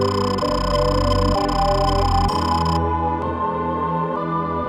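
Opening music from the Nintendo 64 game Quest 64 plays loud and continuous, with cheap-sounding synthesizer tones, sustained chords and a simple melody. Partway through the top end thins out.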